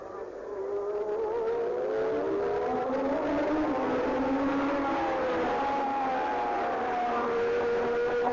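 Formula 1 race cars at the 1982 San Marino Grand Prix scream past at high speed, their high engine whine rising and falling with passing Doppler sweeps, heard at a distance under broadcast commentary.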